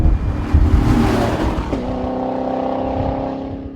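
A 2014 Chevrolet Corvette Stingray Z51, a rear-wheel-drive sports car, is driven hard up a road: a loud, close engine roar builds, then settles into a steady high drone as the car pulls on, with no talk.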